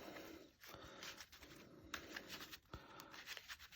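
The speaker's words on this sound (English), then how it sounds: "give it a shuffle." Shuffling of a Yu-Gi-Oh! card deck, with a steady run of close riffling and sliding card sounds and soft slaps throughout.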